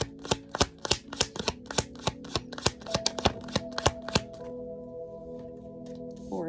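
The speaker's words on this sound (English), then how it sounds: "Pretty good shuffle." Tarot cards are shuffled by hand in a quick run of about a dozen sharp riffling snaps, close and fairly loud, stopping after four seconds to leave a soft hum.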